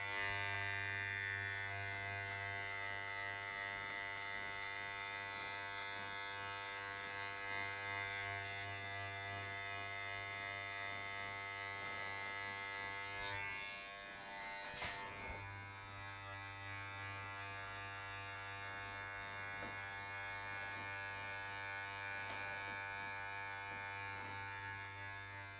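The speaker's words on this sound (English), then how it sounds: "I'm gonna close the clipper one click, brush my hair, and I'm gonna go below that third guideline" An electric hair clipper buzzes steadily at close range while cutting a fade, its even hum dipping briefly midway before carrying on, with no talk.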